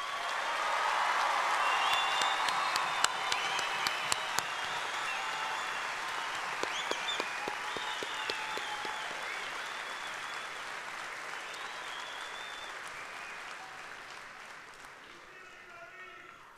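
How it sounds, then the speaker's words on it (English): A large commencement audience gives graduates a long, sustained round of applause at SIUE's 2013 spring ceremony, the dense clapping staying full and steady before gradually thinning and fading toward the end. "let's give one more final round of applause to our graduates"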